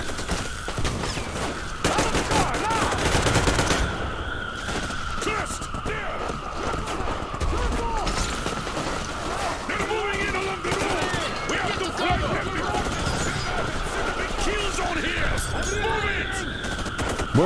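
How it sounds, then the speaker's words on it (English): Gunfire and machine gun bursts from the video game Metro Exodus crackle in rapid, overlapping volleys over a steady tonal game soundtrack, continuing throughout amid battle noise. "Can you imagine waking up to gunfire like that?"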